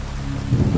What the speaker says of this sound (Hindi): बारिश में बाहर निकल पड़ता है